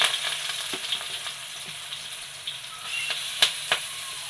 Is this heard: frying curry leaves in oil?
yes